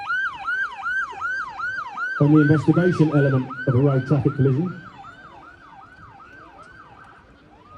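Ambulance sirens wail loudly and continuously as two big yellow ambulances arrive at a staged road traffic collision demonstration at a 999 emergency services day in Chichester, with someone speaking over the sirens for part of the time.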